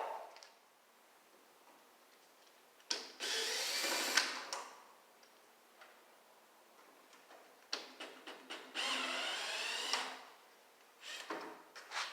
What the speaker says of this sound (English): So I'm going to grab my drill and hopefully these will come right out